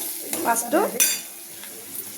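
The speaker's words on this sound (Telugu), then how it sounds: "దీంట్లో వేసుకొని బాగా వేగనియ్యాలి" A ground gravy of poppy seeds, cashews, onions and tomatoes hits a hot pan with a short sizzle, followed by a few scraping stirs and light clanks of a spoon against metal.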